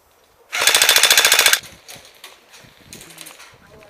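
An airsoft gun fires one fast, loud full-auto burst of about a second at an outdoor site, the rapid cracks stopping abruptly as the ammo runs out, followed by quieter rustling and handling noises.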